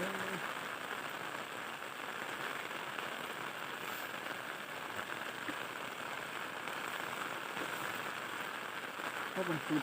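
Rain falls steadily in a continuous, fine hiss of drops pattering on surfaces, soft and even throughout, with a faint voice briefly present.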